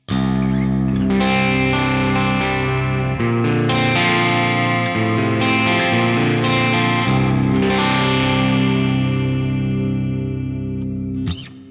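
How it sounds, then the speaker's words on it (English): Electric guitar playing a chord progression on both humbuckers' inner coils, a balanced tone ringing through chorus and mild drive, continuous and loud with no talking. "So nice and balanced, a typical inner coil sound. Both humbuckers."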